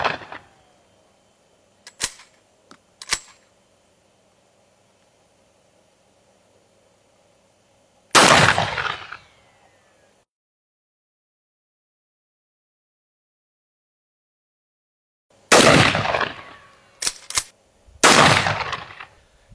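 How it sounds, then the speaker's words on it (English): Shotgun firing buckshot and number 4 shot at targets outdoors: loud sharp blasts, two quick faint shots early, then a heavy report, and a later cluster of several rapid booms separated by silence. "I'm going to shoot the bottom one with the triple-aught and the top one with the number 4"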